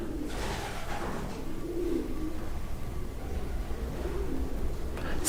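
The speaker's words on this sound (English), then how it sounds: "It's difficult with the pigeons, because I know they're making a lot of noise up there." Pigeons coo from somewhere overhead, a few soft low coos rising faintly above a steady rushing background at a campsite.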